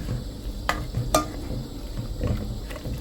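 Pork stirs in a pot of Thai curry, a low bubbling sizzle broken by a couple of sharp clinks of a utensil against the pot, close and without talk.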